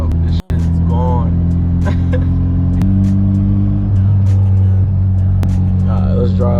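A boosted 9th-gen Honda Civic hums steadily from inside the cabin, the engine tone stepping between gears, with a brief dropout near the start and faint bits of talk over it.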